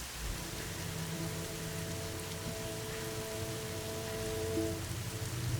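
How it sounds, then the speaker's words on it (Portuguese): Heavy rain pours down steadily in the Amazon rainforest, a dense, continuous hiss of water on foliage and surfaces, close and enveloping, with no voices present. "A chuva cai com força devastadora."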